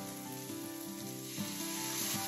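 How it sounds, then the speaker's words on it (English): Minced garlic, a heaping tablespoon, sizzling in a pan, a steady close hiss with faint tonal background sounds running under it. "I'm going to go ahead and add 1 heaping tablespoon of minced garlic."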